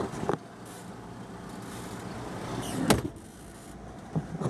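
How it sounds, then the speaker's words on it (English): A 2000 Roadtrek 200 Class B camper van door thuds shut partway through, with a softer knock at the start and another near the end, over a low steady hum. "let me go ahead and shut this door"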